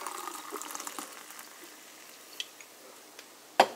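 Water pours softly into a mug in a faint, hissing trickle, ending with a short clink.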